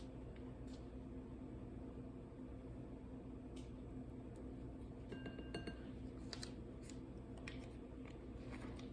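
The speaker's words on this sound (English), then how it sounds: "I am washing all of these dishes together" Dishes, glassware and cutlery being washed together in a kitchen during a cookie-baking class, with steady running water beneath scattered light clinks and knocks of glass and metal.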